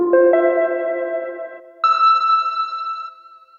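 Sustained synth notes from a Drolo Stammen v4 with an OP-1 Field, loud and close, that shift to a higher tone midway and then ring out in a long, fading reverb tail.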